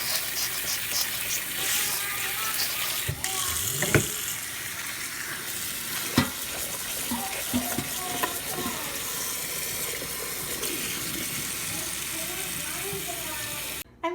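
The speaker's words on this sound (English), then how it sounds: "I gotta wash and rinse the blueberries, blackberries, and grapes and get them into containers." Blueberries, blackberries and grapes are rinsed under running tap water in a kitchen, a steady hissing stream with occasional louder splashes and knocks as the fruit is handled, while someone talks over it.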